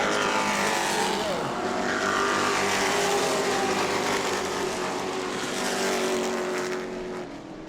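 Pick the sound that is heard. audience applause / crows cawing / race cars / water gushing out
race cars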